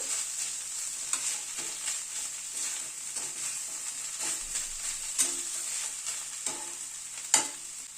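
Potato being stirred into a banana flower mixture in a pan, a steady soft scraping and light sizzle with occasional sharper clinks of the spoon against the pan, close and without talk.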